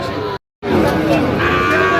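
Sahiwal cattle low and bellow amid a noisy crowd at a cattle market in Kushtia, with voices talking over the animals and a brief dropout early on.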